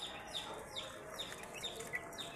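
A hen clucks repeatedly at moderate distance in a backyard flock setting, with short bursts of fowl calls and faint chirping over steady background noise, no voices.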